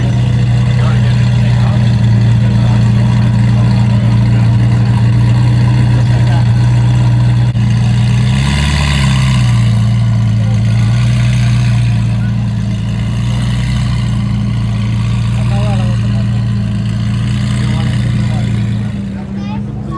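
Exotic cars, among them a McLaren, cold-start and idle as they leave a car meet, giving a loud, close, steady low engine drone with a brief rev swell midway, while someone talks over it.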